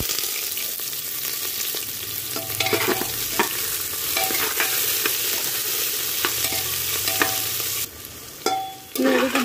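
Onions fry in oil with bay leaf, cardamom, cloves and cinnamon, a dense close sizzle with repeated stirring scrapes and utensil clinks; the sizzle briefly dips near the end as the pan is stirred, and no one speaks.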